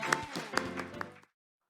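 A seminar audience at a Metaverse forum breaks into a short burst of applause, with scattered claps that swell and then cut off abruptly after about a second.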